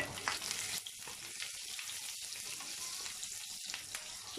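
Cut ginger and garlic sizzle with fennel seeds in hot oil in a pan, a soft, steady frying crackle heard fairly close and fairly quiet, with occasional stirring and no talk.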